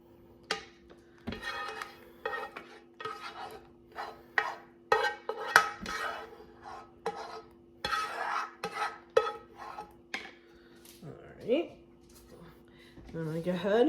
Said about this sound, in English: I think I'm just going to pick the pot up and dump it.